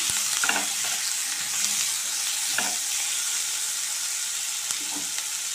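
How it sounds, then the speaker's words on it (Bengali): Vegetable curry with a little sugar and salt frying in a pan, a steady close sizzle with a few scraping stir strokes of a spoon against the pan, no talk. "একটু নেড়ে দিলাম।"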